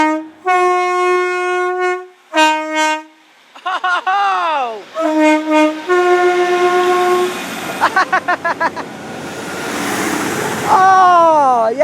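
A Great Western Railway train departing Severn Tunnel Junction sounds its two-tone horn repeatedly, loud and close, with long blasts, short staccato toots and bending pitches, while engine noise rises in the background.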